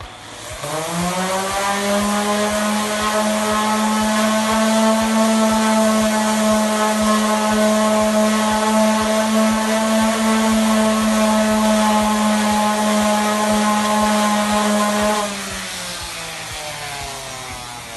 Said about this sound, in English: Using 120 grit sandpaper on my sander, I'm going to sand the surface so I can see where it's uneven